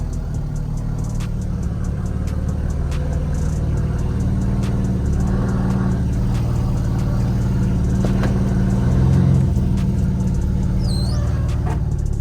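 A V6 Camaro fitted with an 80mm throttle body runs at a steady idle, giving a constant deep, close engine rumble with no revving and no talk over it.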